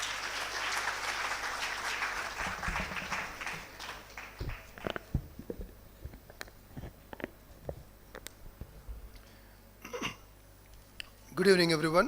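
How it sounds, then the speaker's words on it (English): At a dental college graduation and awards ceremony, a hall audience gives a dense round of applause that fades within a few seconds, followed by scattered footsteps and small noises before a voice begins speaking. "please give a warm round of applause"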